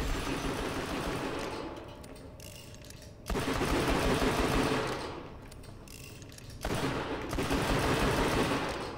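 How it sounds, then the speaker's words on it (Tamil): Rapid automatic gunfire in Borderlands The Pre-Sequel, loud bursts of dense crackling fire in two long sustained stretches separated by a quieter gap, with no talk over it. "இந்த கன் வந்து நான் ஒவ்வொரு தடவை அமுக்குனா சுடுது"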